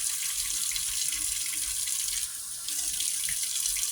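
Hot water runs steadily from a tap while a doll is washed, a loud continuous splashing hiss with a brief dip midway.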